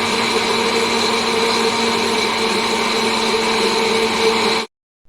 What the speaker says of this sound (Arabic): وهشغل الخلاط وهنزل بالزيت سرسوب.